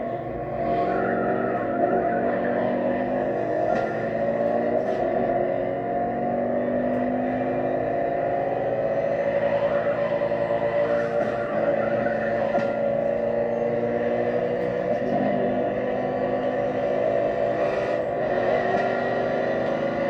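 NASCAR stock cars racing in The Crew Motorfest video game, a continuous loud roar of engines at speed with shifting pitch and occasional tire squeal throughout.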